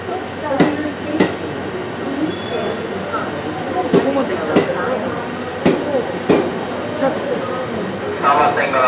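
A Tobu Railway train, the Spacia Nikko bound for Shinjuku, rolls into a station platform with rumbling, clattering wheels and sharp metallic clicks and clanks, while people talk nearby over the noise.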